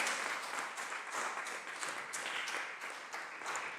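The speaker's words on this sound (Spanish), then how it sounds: "Dele fuertes palmas al Señor." Church congregation clapping hands in praise at a Bible study service, a full, evenly pulsing patter of many hands at moderate volume throughout.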